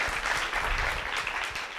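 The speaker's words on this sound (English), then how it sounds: "One more round of applause, please" Audience applause at a digital influencers event in Montenegro, a short, dense burst of clapping that stays steady throughout.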